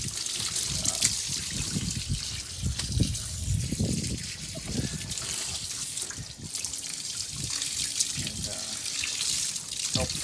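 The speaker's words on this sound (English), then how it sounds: "let it drain out the drain. That way it just drains out into a pool." Water drains from a flax retting tank into a pool, a steady close trickling and splashing flow that runs continuously with some faint background talk.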